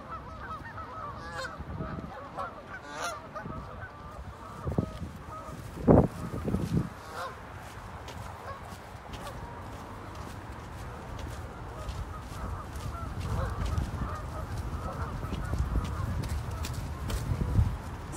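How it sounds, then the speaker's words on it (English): Ducks honk a few times at night in Central Park, Manhattan, in winter, fairly distant over a steady low city rumble, with a brief louder cluster of calls near the middle. "Ducks."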